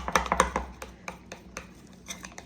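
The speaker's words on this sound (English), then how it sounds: "So what I'm gonna do is take my butter knife, and I'm gonna really give it a good stir." A butter knife stirring a pink mixture in a bowl, giving a quick run of sharp clinks and scrapes followed by sparser, fainter taps.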